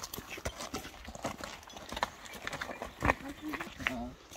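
A horse being ridden clops along with irregular hoof strikes, moderately close, while people talk around it.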